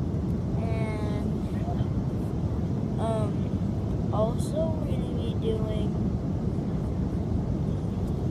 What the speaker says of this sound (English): we're on a plane to go to Hawaii right now